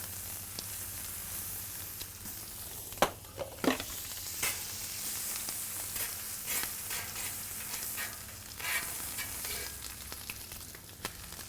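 Butter sizzling on a Blackstone griddle with the burner on low, a soft, steady crackle and hiss with a few sharper pops and clinks, quiet and close.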